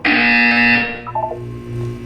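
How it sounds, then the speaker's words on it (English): A loud electronic buzzer sounds in the Portal 2 video game, one harsh tonal blare lasting under a second, then a short trailing series of lower electronic blips under a faint background hum. "When you hear the buzzer, look down at the floor."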